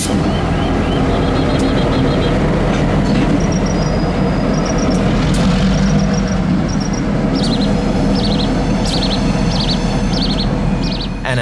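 A Norfolk Southern freight train pulls its outbound cut of cars out of a yard in coastal Carolina, a loud continuous rumble and rolling clatter with high squeals and birds chirping over it, no voices.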